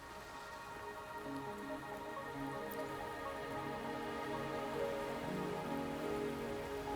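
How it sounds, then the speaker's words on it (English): Steady rainfall in the video game Wuthering Waves, a soft continuous patter of drops on surfaces with occasional closer drips, running evenly beneath a quiet sustained tonal background with no talking. "Are you trapped here by the rain?"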